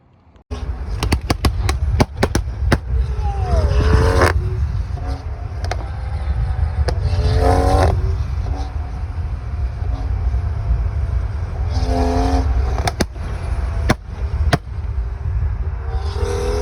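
Liberty Walk Nissan GTR revving hard with sharp exhaust pops and crackles, loud and close from inside the car, in repeated bursts over a steady engine drone.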